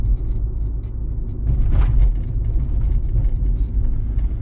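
A car cruises at 40 km/h in third gear along a city driving-exam route in Lutsk, heard from inside as a steady low engine and road rumble with a brief scrape in the middle.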